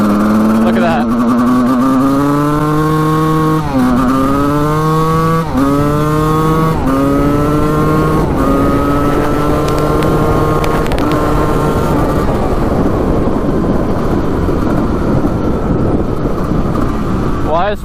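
A 1989 Suzuki RM250 two-stroke dirt bike with a boggy first and second gear runs loud and close, its engine rising in pitch through repeated revving pulls before settling into a rougher, noisy run with no clear talking.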